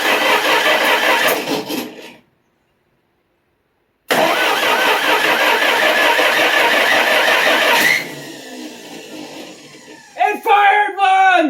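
A 1961 Studebaker Lark engine with a rebuilt distributor cranks loudly and rhythmically, stops for a short silent pause, cranks again and catches briefly, followed by quieter noise and a voice reacting at the end.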